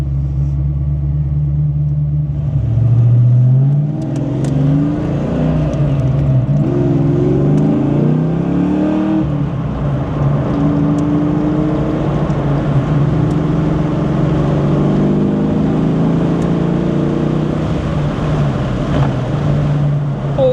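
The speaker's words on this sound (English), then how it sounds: "This car doesn't weigh anything, and it just wants to pull. It sounds really good though." A lightweight Foxbody Mustang with a B cam revs and accelerates hard: a loud, close, throaty engine rumble that climbs and falls in pitch through repeated pulls, with no talking.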